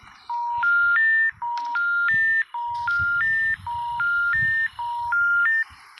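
Phone call beeps in the video game Hello Neighbor: a repeated rising three-tone electronic melody plays in four or five clear bursts with short pauses, loud, over faint background noise.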